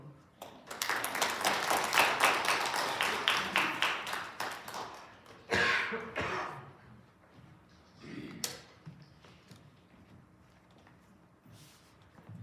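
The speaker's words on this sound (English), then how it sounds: "I think we can get a little more raucous for our applause for Sister Janet" Audience applause for Sister Janet at a community presentation opposing a Kenosha methane gas plant: a dense, loud burst of many hands clapping for about four seconds, then tapering off, with a brief second flurry and scattered quieter sounds afterward.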